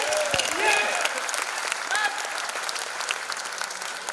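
An audience at a motivational speech event at BARC bursts into sustained, dense clapping that fills the room, with a few whistles near the start and voices faintly mixed in.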